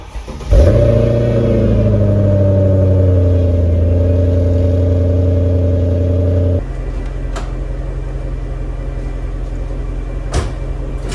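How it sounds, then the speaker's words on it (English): A Mercedes W211 E55 AMG cranks and fires up with a loud burst, then settles into a steady, rumbling V8 idle, with a drop in level partway through as the car sets off and drives, plus a few faint knocks near the end. "let's take this baby for a ride."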